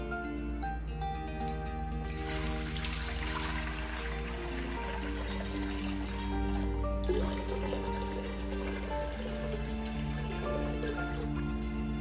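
Two litres of water pour into a cooking pot for syrup, a steady close splashing and trickling stream that holds for the whole stretch and swells slightly midway.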